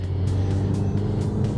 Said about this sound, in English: when you nail it at about 3000 RPM, you can just rev all the way out